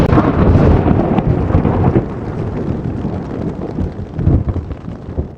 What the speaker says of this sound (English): I could hear rain coming down outside